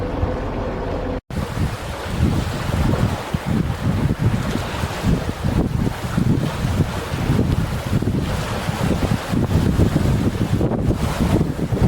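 Steady, loud wind buffeting the microphone with rushing water beneath while sailing between Roatan and Guanaja, Honduras, in irregular wind, continuous and unbroken apart from a brief cut near the start.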